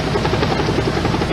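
Brief, loud, steady rotor thumping from an Air Life air ambulance helicopter in flight, heard up close and alone.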